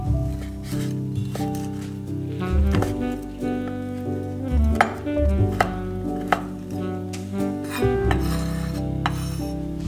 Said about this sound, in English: Fry the rolled bacon, chop it finely